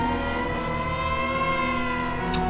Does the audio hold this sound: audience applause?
no